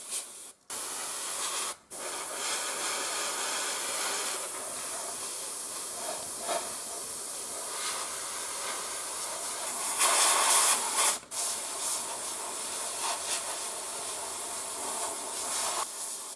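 Airbrush with a 0.2 mm needle spraying paint onto the sides of a scale 0 covered DB freight wagon model, a steady close hiss running for long stretches, broken by a few brief pauses.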